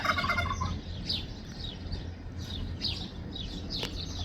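Turkeys gobbling on a poultry farm kept in fierce heat, repeated rapid gobbles rising and falling at a moderate distance over a steady background hum.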